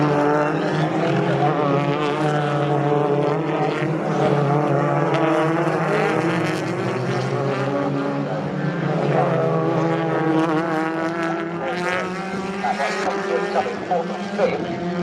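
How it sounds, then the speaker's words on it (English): British Touring Car Championship cars, including a Toyota Corolla, racing at Snetterton, their engines droning and shifting pitch as the pack passes, with a commentator talking continuously over the engines. "Jake has been able to shrug off the attentions of the Toyota driver, and the Corolla now falling into the clutches of Tom Ingram"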